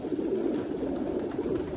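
Racing pigeons from top European fanciers coo softly in a loft, a low murmuring warble of several birds that runs steadily throughout, close and moderately quiet with no talking.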